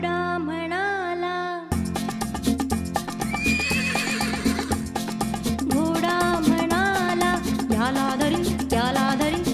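A horse whinnies in high, wavering neighs over steady clip-clop of hooves, set against bright music in a cartoon scene.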